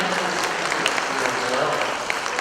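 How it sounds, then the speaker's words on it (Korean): A crowd claps steadily at a founding dharma assembly of the International Buddhist Union, with continuous, moderately loud applause and voices mixed in underneath. "가장 큰 박수 부탁드리겠습니다"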